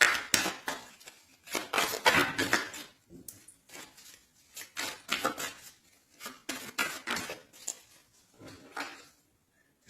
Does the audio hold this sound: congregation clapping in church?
no